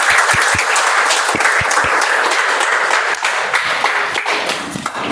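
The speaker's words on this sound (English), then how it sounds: "So huge round of applause." An audience at a speech-marathon club meeting claps in a loud, sustained round of applause, with a few sharp, distinct claps standing out at the start and the clapping continuing evenly before tapering slightly at the end.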